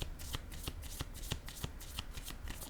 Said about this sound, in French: Je vais déposer une carte ici. Une autre carte pour les flammes jumelles.